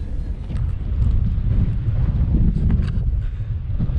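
Strong coastal wind at Mwnt, Wales buffets the microphone in a loud, continuous, low rumbling roar with gusty swells and no talking.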